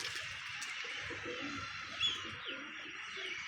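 Pigeons released outdoors, their soft coos and chirps blending with a steady background hiss, with one brief louder flutter or call near the middle.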